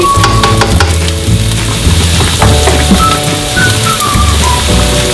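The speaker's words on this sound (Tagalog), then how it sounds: "Hindi natin kailangang i-brown talaga yung ating onion at garlic." Onion and garlic sauté in a hot pan for beef with broccoli, giving a loud, steady sizzle close by, with a few faint clinks.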